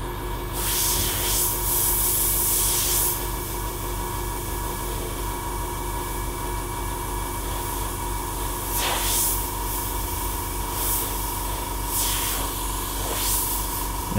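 An airbrush sprays white paint onto a Bell helmet muzzle in a steady, close hiss of compressed air that runs throughout, swelling louder in several short bursts.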